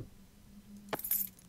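Keys picked up in the horror game Layers of Fear, a brief bright metallic jangle near the end after a low hum, close and clear.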